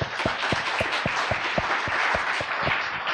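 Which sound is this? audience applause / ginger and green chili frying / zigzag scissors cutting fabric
audience applause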